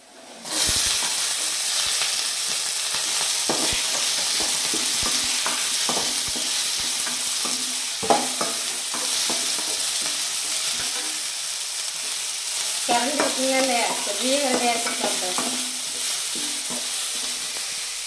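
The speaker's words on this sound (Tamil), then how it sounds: "வெங்காயம் பச்சை மிளகாய் கருவேப்பிலை எல்லாத்தையும் சேர்த்துப்போம்" Onion, green chilli and curry leaves frying in a pan for a rava biryani produce a loud, steady hissing sizzle with frequent stirring scrapes, while a brief voice-like tone rises near the end.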